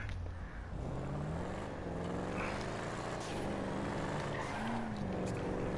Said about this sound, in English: Sounds like a pure American muscle car.